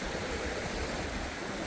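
Steady broadband rush of river water flowing at a gold-prospecting spot, continuous and fairly loud with no voices.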